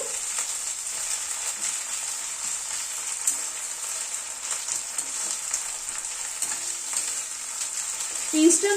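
Crushed ginger, garlic and green chilli frying with onions in a pan, giving a continuous bright, close sizzle with light stirring, steady and even, with no voices.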